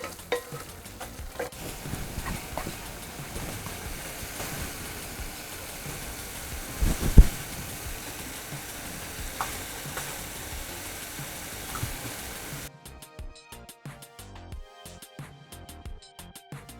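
Curd masala for paneer bhurji, before the paneer goes in, bubbles in a pan with a soft, continuous sizzle and occasional stirring scrapes, with one louder knock midway and a quieter, thinner stretch at the end.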